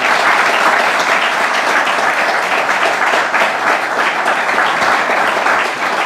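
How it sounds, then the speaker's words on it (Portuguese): A church congregation claps together in a sustained, dense round of applause, loud and close, steady throughout with no break and no speech over it. "E os irmãos dêem uma salva de palmas para Jesus."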